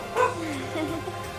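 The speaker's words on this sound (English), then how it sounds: "Oh, dumb dog." A dog in the video game Danganronpa lets out one sharp bark, then a short, wavering whine, close and clear against a quiet background.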